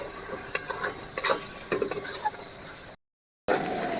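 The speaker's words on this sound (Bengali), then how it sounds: "ভালো করে ভেজে নেব।" Spices with turmeric and salt fry in oil in a pan for a chicken dish, a close, steady sizzle broken by repeated scraping and clinking strokes of a spoon, with a brief cut to silence near the end.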